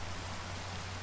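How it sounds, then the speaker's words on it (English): Steady rain falling in the Minecraft video game, a dense, even hiss with a low droning hum beneath it, constant and unbroken for the whole short moment. "Man, I don't like it when it rains."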